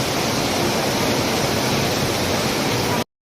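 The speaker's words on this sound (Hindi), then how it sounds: "यहाँ ठीक नीचे देखिए तेज बहाव नदी का" A fast-flowing river at Badrinath rushes in a loud, unbroken roar of churning water, steady broadband noise heard close until it cuts off abruptly.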